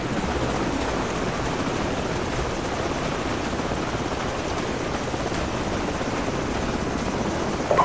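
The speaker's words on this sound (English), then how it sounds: "Enemy helicopters. It's gonna get real busy around here soon." Enemy helicopters in a Call of Duty game give a steady, broad rotor and engine rumble that holds at an even level throughout, with no voices.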